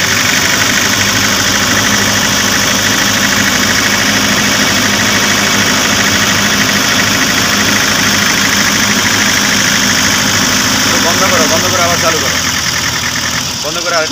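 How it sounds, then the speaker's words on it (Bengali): A Toyota Hiace diesel engine runs loud and close at a steady idle with a continuous knocking rattle and vibration throughout, and near the end there is a slight change in pitch as it is revved a little. "এখন আমি আপনাদেরকে ইঞ্জিনটি স্টার্ট করে দেখাবো যে আজকের ইঞ্জিনটি সাউন্ড কন্ডিশন কেমন আছে"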